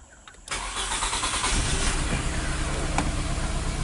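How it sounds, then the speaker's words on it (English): A car engine with a number 4 injector circuit fault cranks and catches, a steady broadband engine roar rising sharply after a brief quiet start and holding loud and close throughout. "what I'm gonna do next is I'm just gonna crank one more time"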